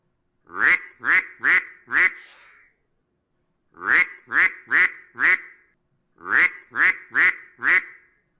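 A duck quacks loudly and close in three separate bursts of four quick, raspy calls each, with short silent gaps between the groups.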